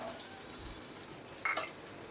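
Chopped onions and carrots frying over a high flame in a pan, a soft, faint sizzle running throughout, broken by one brief clatter of the spoon as the vegetables are stirred.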